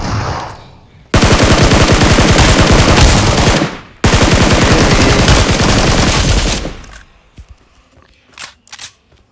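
Rapid automatic gunfire in the mobile battle royale game BGMI, two long, loud, unbroken bursts of close machine-gun fire separated by a brief gap, followed by a few scattered fainter shots.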